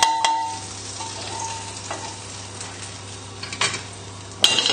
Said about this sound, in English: we'll just fry up the rest of the ingredients quickly